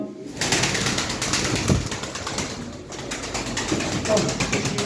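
Pigeons coo and flap nearby in a continuous busy rustle, with a voice talking intermittently over the birds.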